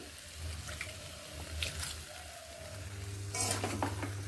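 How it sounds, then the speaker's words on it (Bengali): Water poured into a sizzling pan and stirred while cooking a vegetable dish, with a steady low sizzle, a few scraping stirs, and a louder burst of pouring and spattering near the end. "একটুখানি জল দিয়ে নিচ্ছি"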